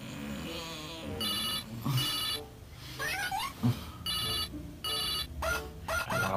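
An old-style telephone bell rings in repeated bursts, loud and close, with short pauses between the rings and some background noise.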